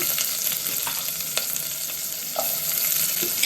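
Mustard seeds, cumin and onion frying in hot oil for a tempering, giving a loud, continuous close-up sizzle with occasional stirring scrapes and small pops, with no voices.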